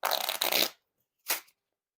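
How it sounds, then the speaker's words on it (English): Riffle shuffling of a black Bicycle Aviary playing card deck: one close, crisp fluttering riffle lasting under a second, then a short soft bridge-like rustle after a pause. "There's definitely no issues with the riffle shuffles."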